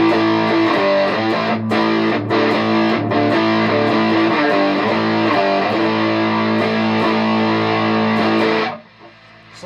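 Electric guitar chords played through a Pro Co Rat distortion pedal with its filter turned fully counterclockwise give a loud, sustained, bright fuzzy tone with a few quick breaks, then cut off sharply near the end.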